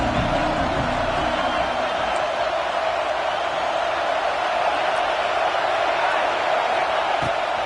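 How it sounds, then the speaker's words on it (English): Steady stadium crowd roar from an NCAA 26 college football video game, a broad continuous wash of noise at a constant loud level throughout, with no distinct cheers standing out. "This crowd bringing the energy and noise early."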